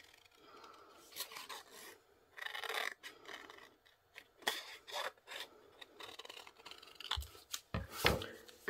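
Scissors snip and rasp through a paper craft piece for a 3D arcade box, in short irregular bursts of close cutting.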